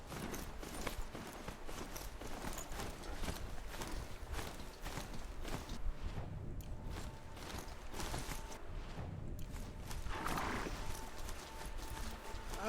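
A horse ridden in the snowy Horizon Zero Dawn video game walks steadily, its hooves clip-clopping in a continuous rhythm over ambient game noise.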